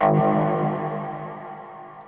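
A single heavy synth bass hit from a self-recorded sample of a Zeta plugin bass sound, with a distorted attack, ringing out and slowly fading over about two seconds.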